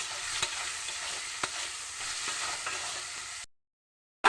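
Chopped tomatoes with salt fry in a pan, making an even, close hiss with a few soft stirring knocks before the sound cuts to silence near the end.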